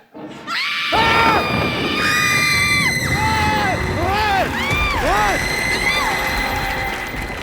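Loud, shrill screaming from several voices in a comedy sketch, overlapping high-pitched wails and shrieks rising and falling repeatedly after a brief quiet start, close and intense throughout.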